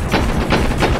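Rapid, loud gunfire from the video game Enter the Matrix: three sharp bursts of automatic shots roughly a third of a second apart over a dense, continuous roar with background music, no voices.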